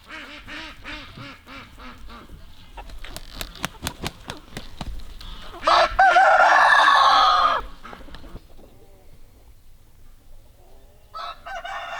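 A rooster crows loudly nearby while chickens cluck and chatter around it, with sharp squawks breaking in.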